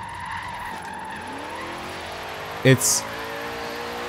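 A drift car in the Forza Horizon 3 racing game, fitted with the worst tires and extra power, gives a continuous engine drone with steady tire skid throughout, plus a brief sharp burst near the end; someone speaks over it briefly.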